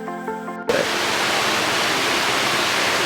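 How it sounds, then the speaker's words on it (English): A waterfall on the Mojokerto–Jombang border roars in a loud, constant broadband rush that starts abruptly after a brief moment of quieter sound at the beginning. "So now we are arrived in this waterfall."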